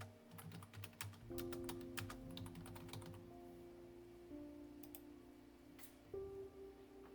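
A computer keyboard is typed on to enter an AI video prompt, giving bursts of quick light clicks, then sparse taps, set over a faint steady tonal hum with no talking.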